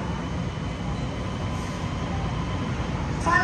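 A Long Island Rail Road M7 or M9 electric train idles in the underground platform hall at Grand Central, a low, steady rumble and hum at moderate volume, with no talk heard.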